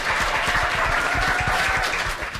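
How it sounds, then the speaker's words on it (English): Audience applause from a crowd, loud and continuous rapid clapping heard up close, sustained throughout with no talking over it. "round of applause"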